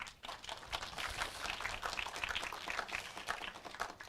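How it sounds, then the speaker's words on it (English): Scattered applause at an online JavaScript meetup crackles steadily for about four seconds, fairly faint and thin, with no speech over it. "So thank you very much. Great applause."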